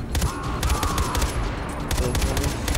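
Video-game gunfire in Far Cry 4: rapid, loud bursts of automatic shots crackle in clustered volleys, pause briefly, then resume, with no talk over them.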